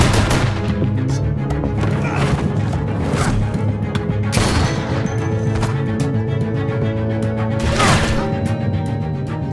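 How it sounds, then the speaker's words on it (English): Steady bursts of gunfire crackle over a dense, continuous mix of music and effects in the video game The Walking Dead: A New Frontier, with a few louder shots punching through. "I hear gunfire."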